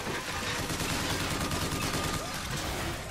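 Continuous machine gun fire in Bioshock Infinite, a dense rattling stream of rapid shots held steady and loud throughout, with a voice faintly mixed in.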